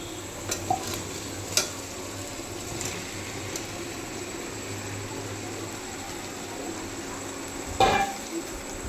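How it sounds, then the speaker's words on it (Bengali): Fried chicken pieces stirred in a sizzling pan with chili, ginger and garlic paste: a steady close frying hiss, with a few scraping clinks of a utensil against the pan and a louder clatter near the end. "এখন আমি ভেজে রাখা চিকেনগুলো এর মধ্যে দিয়ে দেবো"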